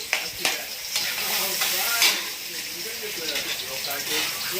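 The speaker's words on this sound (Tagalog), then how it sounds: "Lalagay na sa sahod na yung bawang" Garlic sizzles and crackles in a pan of hot oil while mung beans are being cooked, a steady close frying hiss with stirring scrapes throughout.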